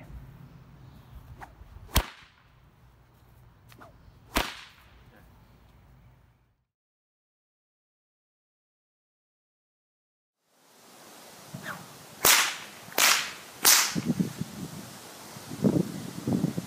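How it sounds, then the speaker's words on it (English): A bullwhip cracks in sharp, loud, separate reports used to cut objects: two cracks, then a stretch of silence, then three more in quick succession amid outdoor rustle and wind. "Now, let's get to the whip cutting."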